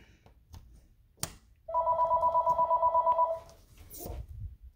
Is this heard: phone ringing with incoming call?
yes